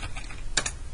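Computer keyboard keys tapped while entering a search for a city image, a short burst of a few quick clicks near the middle, close and moderately loud with no talking.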